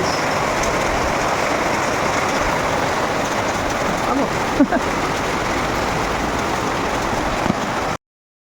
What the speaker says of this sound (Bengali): বৃষ্টি এখনও টিপ টিপ করে পড়ছে